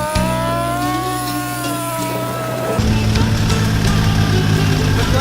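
A Gator utility vehicle readied to pull a spike tooth drag on a Northern Michigan food plot runs steadily and close, its motor drone shifting to a rougher, louder note partway through.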